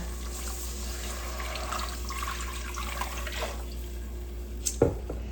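Steady milk pouring and running into a pot, a continuous liquid rush, ending with a brief clank and drip near the close.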